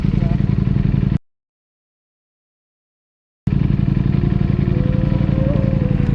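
An Aprilia RSV4 V4 motorcycle engine at a drag strip runs loud and close in a dense, buzzing drone, broken by a sudden stretch of silence before resuming, with a rising whine near the end.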